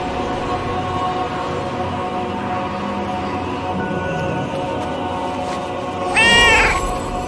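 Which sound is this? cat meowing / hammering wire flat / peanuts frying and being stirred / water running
cat meowing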